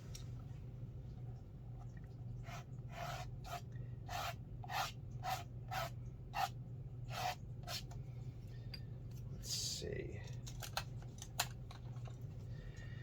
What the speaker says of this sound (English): let's scrape some texture in